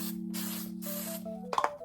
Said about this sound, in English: I'm going to spray it a little more with hairspray.